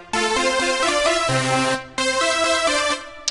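A bright synth part from an instrumental, two sustained chordal phrases with a short gap between them, played alone and fairly loud.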